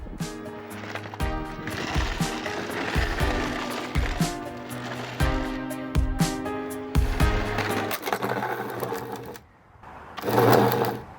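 An electric lawnmower on an upgraded chassis runs over grass and cement, giving a steady motor whir with a rapid rattling clatter. It dips briefly near the end, then returns in a loud final burst.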